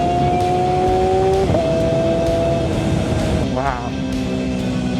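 Yamaha R7 or Kawasaki ZX4-RR sportbike engine held on throttle, a loud steady drone with a rising-falling pitch shift midway, accompanied by constant wind and road rush.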